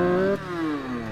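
A motorcycle engine idling as it warms up, a steady close mechanical hum whose pitch drops slightly after a moment, then holds evenly to the end, with no talking.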